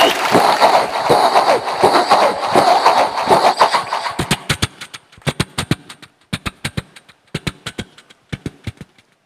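A man vocally imitates a distant train entering a tunnel, starting with a dense, rushing roar that drops away into a loud, sharp, rhythmic clatter of wheel-like clicks in quick pairs.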